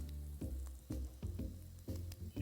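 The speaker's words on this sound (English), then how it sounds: "The welcoming sizzle and the scent of cooking eggs, bacon, and sausages" Eggs, bacon and sausages sizzle in a pan in a video game, a crackling fry broken by repeated low thumps and clatters, with no voices.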